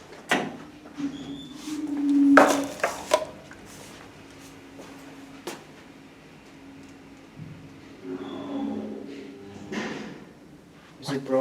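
Fast doors on a 1991 KONE M traction elevator open and close with sliding rumbles, thuds and clicks, punctuated by a short chime, while people talk nearby.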